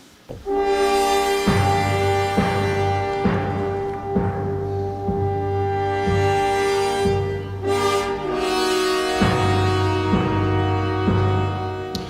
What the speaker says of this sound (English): Let's play a little sound from this Lady Macbeth opera.